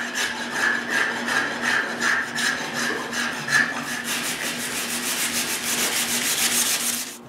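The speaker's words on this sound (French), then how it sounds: "J'arrange ça avec la vastringue." A spokeshave shaving down oversized wooden dowels for a wooden tripod, steady rhythmic rasping strokes close up that speed into a fast scraping run near the end, with no talking.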